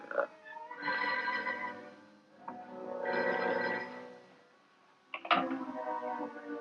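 An old telephone rings in a 1948 noir mystery film, three loud bell bursts separated by short pauses, with no voices over the rings.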